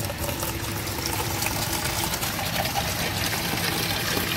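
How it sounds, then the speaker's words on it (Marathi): Water pouring steadily into a 20-litre can at a village water ATM, a fairly quiet continuous splashing flow with no talk over it. "पाणी पण आपल्याला भरायला गावामध्ये ATM सुविधा पाण्याची 5 रुपयामध्ये 20 लिटर."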